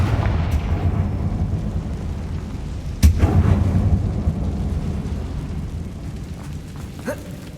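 A Confringo blasting spell goes off inside a closed mine resembling a tomb in Hogwarts Legacy, a sharp booming explosion about midway that sits over a steady low rumble, followed by a smaller burst near the end.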